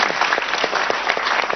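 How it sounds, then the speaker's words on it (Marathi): Audience applause following a talk on homeopathy treatment, steady dense clapping from a crowd throughout the short stretch, fairly close and even in loudness with no voices over it. "टाळ्या झाल्या पाहिजे."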